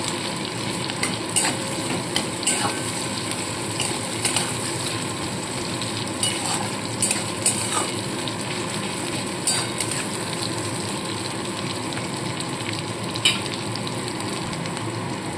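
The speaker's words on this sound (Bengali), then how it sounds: "পেঁয়াজ কুচোটাকেও একটু ভাজা ভাজা করবো" Chopped onions sizzle steadily in a pan while cooking amudi fish chorchori, with a continuous close frying hiss and scattered clicks and scrapes from stirring. No voices are heard.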